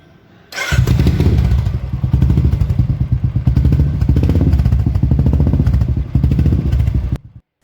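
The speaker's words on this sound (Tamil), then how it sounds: "வாங்க நம்ம எக்ஸாஸ்ட் சவுண்ட் கேட்கலாம்." A Royal Enfield Classic 350 single-cylinder, 346cc air-cooled four-stroke motorcycle exhaust thumps to life and rumbles loudly with a rapid, uneven beat, revving a few times before cutting off.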